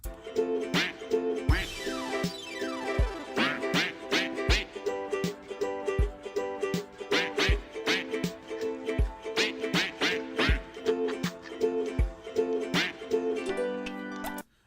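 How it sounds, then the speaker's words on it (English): Ducks quack in a steady rhythmic pattern layered over a beat and pitched synth tones, forming a musical track where the quacks act as melody, loud and continuous with no talking. "I think that's the first time I've ever heard ducks harmonizing."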